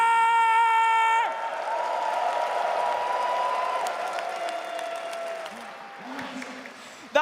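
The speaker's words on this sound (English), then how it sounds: "Can we please put our hands together for both of these incredible teams one more" Large arena crowd at the Dota 2 International 2025 grand final applauding and cheering steadily, a dense wash of clapping under a fading tone that rises and settles over several seconds.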